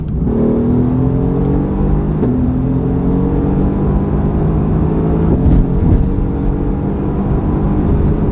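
A 2018 Mercedes-AMG GT R sports car engine roars steadily and revs upward through several gear changes, loud and close, with no voices.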